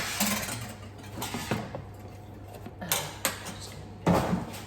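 A saucepan shifted on a kitchen stove top while cooking lasagne, giving a few brief clanks and scrapes of metal on the burner, with a steady low hum underneath.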